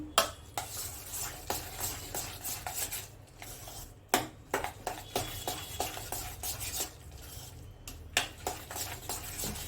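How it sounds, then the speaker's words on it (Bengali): A spoon scrapes and clinks against a pot while stirring milk cream, with a steady run of repeated metallic taps and scrapes, faint sizzling underneath, and no talking. "আমি চামচ দিয়ে করছি চামচ দিয়ে করি আমি"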